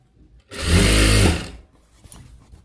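Sewing machine stitching puff sleeve fabric in one loud, steady burst of about a second, starting abruptly and stopping just as sharply, with quiet handling noise after.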